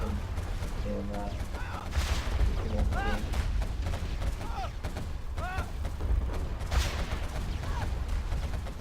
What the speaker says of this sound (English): So, got that rocket launcher attack still going.